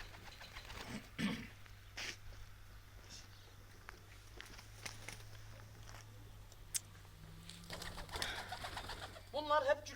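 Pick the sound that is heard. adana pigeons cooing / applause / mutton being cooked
adana pigeons cooing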